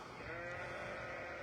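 Sheep and lambs bleating on a farm hillside near old hawthorn trees, a steady, faint chorus of overlapping bleats from a distance with no talk.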